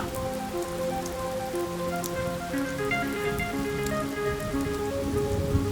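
Heavy rain falling outdoors in a rural setting, a dense, steady hiss of drops pattering on surfaces at constant loudness throughout, with no voices.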